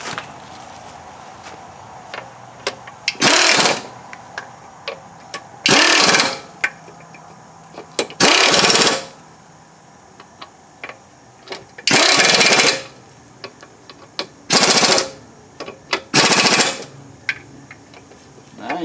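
An impact gun hammering at a spindle nut on a Kuhn GMD 500 disc mower, six loud rattling bursts of a couple of seconds each, separated by quiet pauses with small clanks, no talking.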